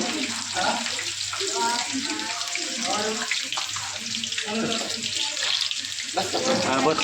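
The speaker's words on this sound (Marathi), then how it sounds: "मिरच्या तळण्यासाठी टाकलेले आहेत" Green chillies frying in hot oil for homemade pav vada give a steady, close hissing sizzle throughout, with people talking over it.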